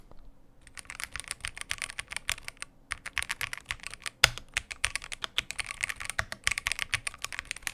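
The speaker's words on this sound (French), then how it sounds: "Le bruit au niveau des switches, il est vraiment incroyable" Close-up typing on an Akko MOD007B-HE mechanical keyboard: quick, clacky keystrokes in uneven bursts with brief pauses and one sharper, louder key hit.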